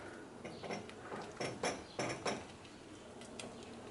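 Chopped yellow oyster and enoki mushrooms go into a pot of simmering tomato-based soup, making a few soft thumps and clattering pot and utensil knocks in short bursts, with no voices.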